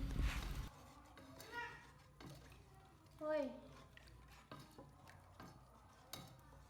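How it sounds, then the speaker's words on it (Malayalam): Palm flour sweet being stirred steadily in a pan, soft scraping strokes running under a voice talking, with a louder clatter at the very start. "നമ്മൾ നന്നായിട്ട് എപ്പോഴും ഇങ്ങനെ ഇളക്കി കൊടുത്തുകൊണ്ടിരിക്കണം"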